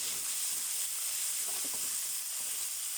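Pork stir-frying in a pan for a glass noodle dish, a steady, even sizzling hiss with faint stirring touches, no voices.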